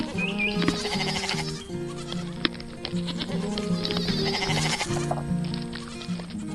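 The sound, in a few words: goats bleating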